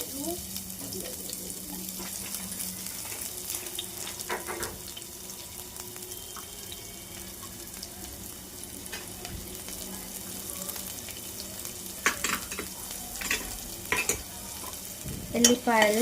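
Chopped onions frying in oil in a pan, a soft continuous sizzle with scraping and stirring clatter that grows busier toward the end.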